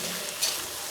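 Ginger paste is stirred in a hot pan while chicken curry is being cooked, giving a soft, steady sizzle with a brief scrape of the spoon. The sound is faint and no one speaks.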